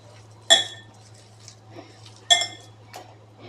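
Fish is mixed with masala paste in a dish, heard as two sharp metallic clinks of a spoon against the bowl, separated by softer scraping and mixing sounds in a quiet room.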